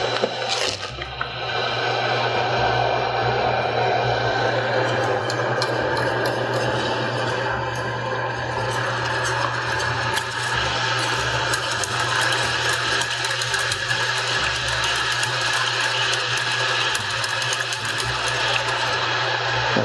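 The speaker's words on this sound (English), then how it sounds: "Just whisk it all in there until it's fully dissolved" Sugar is whisked into passion fruit syrup in a pot, giving a steady, continuous scraping and swishing against the metal that runs for the whole stretch without pause, over a low constant hum.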